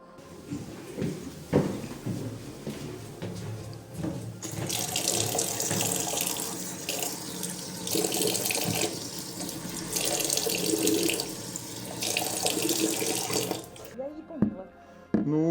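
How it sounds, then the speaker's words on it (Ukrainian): A water-resistant Pixus Bar wireless speaker being rinsed under a running kitchen tap, the steady splashing stream loud and close, with people talking nearby before the water starts and after it stops. "Іди мий під краном."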